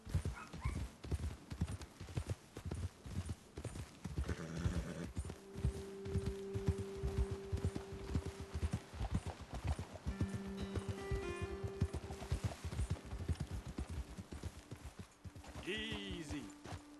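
Horse hooves in the video game Red Dead Redemption 2 clip-clop in a steady, even walking rhythm throughout, with occasional snorts, a whinny near the end, and voices talking over the hoofbeats.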